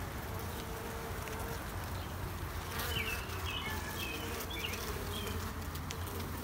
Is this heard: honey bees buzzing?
yes